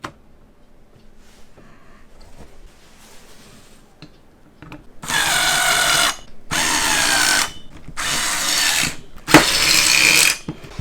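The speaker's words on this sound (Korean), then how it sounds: "전동 드릴로 끝까지 다 하시지 마시고 처음에 걸 때만 어느 정도 사용하셔도 상관없습니다" An electric drill drives screws to fasten a CPU cooler during PC assembly, four loud whirring bursts of about a second each with short pauses between, close up after a quiet stretch of faint handling.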